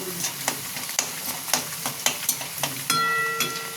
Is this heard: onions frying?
yes